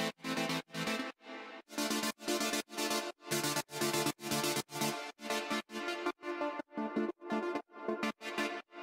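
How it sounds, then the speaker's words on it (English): A bright saw-wave synth preset in FL Studio plays a steady, evenly spaced run of loud, buzzy chord stabs, repeating rhythmically on its own. "So it's a pretty nice sounding synth to begin with."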